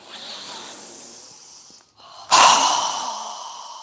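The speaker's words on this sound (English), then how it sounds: "exhale with a strong breath with our mouth open wide" During a yoga session, an inhale is followed by a short pause and then a forceful open-mouth exhale, a loud, breathy rush close to the listener that trails off.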